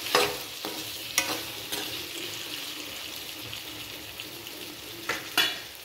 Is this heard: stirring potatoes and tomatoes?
yes